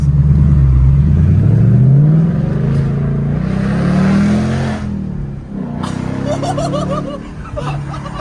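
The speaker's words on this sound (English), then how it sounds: "Opened up. Decel. Oh yeah, you're definitely gonna get some little burbles." A Ford Mustang 5.0 V8 with an H-pipe exhaust revs loudly up through its range, then drops off on deceleration into crackling burbles and pops, while faint chuckles sound beneath it.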